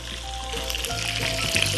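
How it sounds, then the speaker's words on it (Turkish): Peppers hitting hot oil in a pan for a kebab-style three-cheese omelette, a steady broadband sizzle with faint tonal clatter, close and fairly loud throughout, no talking. "Şimdi yağımız yavaş yavaş kızarmaya başladı. Hemen biberlerimizi ekliyorum."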